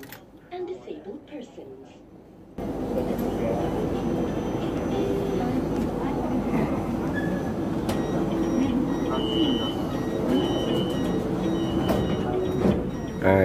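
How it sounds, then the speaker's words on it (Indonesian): Interior of a moving MRT train in Kuala Lumpur heading toward Merdeka station: a steady, loud rumble and rolling hum fill most of the clip after a quieter opening with brief speech, with occasional faint tones and clicks above the drone. "Nah, ini suasana di dalam tren MRT yang dalam perjalanan menuju ke stesen MRT Merdeka"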